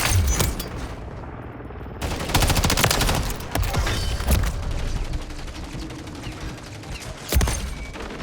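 Rapid automatic gunfire in the Modern Warfare 3 multiplayer shooter, dense bursts of shots rattling on almost without pause, with sharper louder volleys standing out against a constant background of battle noise.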